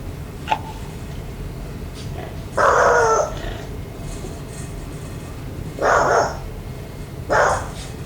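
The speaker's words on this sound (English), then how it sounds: "the dog she is babysitting begins to act strangely, staring down at the hallway while barking." A dog barks in three separate short bursts spaced a few seconds apart, fairly close, over a low background hum.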